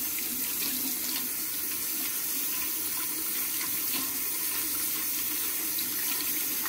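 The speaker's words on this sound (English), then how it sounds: "I rinse off all of that. Make sure the whole brush part is no longer full of soap." Tap water runs steadily into a sink as soap is rinsed off a cleaning brush, a continuous close splashing hiss with faint scrubbing knocks.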